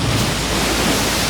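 A rushing wash of ocean waves breaks and splashes close by, a dense, steady roar of spray against a boat hull.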